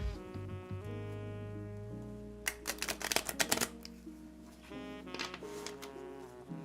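Rapid crisp clicking and fluttering of Yu-Gi-Oh playing cards being shuffled, in two bursts, close up, over a faint tonal hum.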